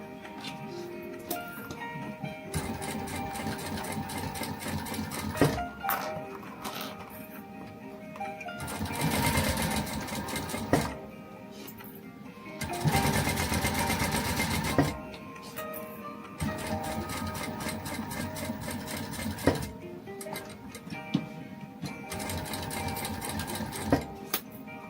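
Domestic sewing machine stitching a watercolour magpie-print fabric glasses case, running in steady bursts of rapid needle chatter with short pauses between seams, close and fairly loud.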